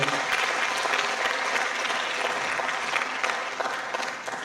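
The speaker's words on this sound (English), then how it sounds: "Please, could you give a round of applause to the man of God?" An audience at a memorial lecture applauds a priest with a broad, steady round of clapping that holds for several seconds before easing slightly at the close.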